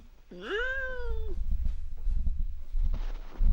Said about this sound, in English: He's a good kitty.